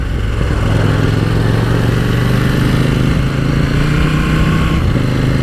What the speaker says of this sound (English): it's got a brand new engine on it, and it's a twin engine, a parallel twin